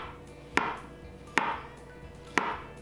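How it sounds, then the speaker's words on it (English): Knife slicing mushrooms thin on a cutting board, three separate crisp cuts, each a sharp tap against the board at an even, unhurried pace, close and clear. "just slice them thin"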